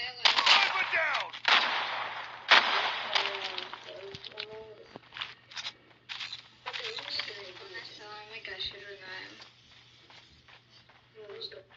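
Gunfire from a sniper rifle in a Call of Duty match, loud sharp shots early on followed by scattered quieter game effects, with voices talking over the action.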